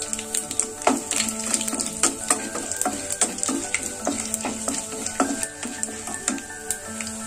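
Dried red chillies and curry leaves fry in oil in a pan with a busy crackling sizzle, under rapid, rhythmic spatula taps and scrapes throughout, close and fairly loud. No one speaks.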